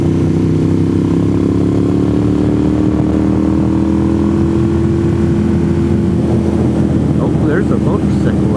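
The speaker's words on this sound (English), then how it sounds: "Oh, there's a motorcycle out." A motorcycle passing on US 129 near Deals Gap, Tail of the Dragon, with a loud, steady engine drone that turns rougher and more rumbling toward the end.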